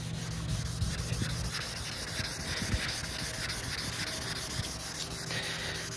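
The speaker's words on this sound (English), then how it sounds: "I'm about to put a piece of sandpaper in your hand" Sandpaper rubs back and forth in a steady wet scrubbing rhythm across a car's painted panel, close and continuous for several seconds with no talking.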